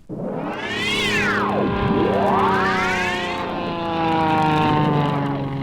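A biplane's propeller engine drones steadily and loudly, its pitch sweeping up and down as if passing and circling, with no voices over it.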